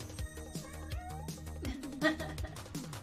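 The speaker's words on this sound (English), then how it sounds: "That is a cat." A cat meows a few times in a room during a live broadcast of a tapping video game, partly masked by game music and background sounds.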